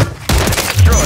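Shotgun blast in Call of Duty Warzone, one sudden loud boom with a rough crackling tail, followed by a second heavy thump close by.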